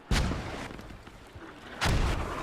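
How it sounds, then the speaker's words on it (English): Two heavy mortar shell impacts in a multiplayer combat video game, each a loud booming blast with a long rumbling tail, spaced about two seconds apart. "Mortars are now back on point. All really hitting hard."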